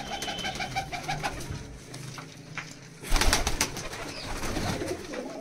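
Pigeons coo in soft, repeated throaty calls, with a louder burst of bird sounds and fluttering midway, close by against a busy background of a pigeon-keeping loft.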